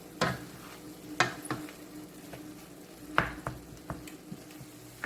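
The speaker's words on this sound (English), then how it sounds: "add your chopped onions. Okay, allow that to cook and saute in there." Chopped onions sautéing in a pan, a faint steady sizzle punctuated by occasional sharp utensil taps and clicks, close by and without talking.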